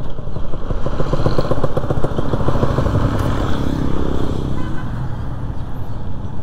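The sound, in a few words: Raider 150 motorcycle riding with its muffler tied on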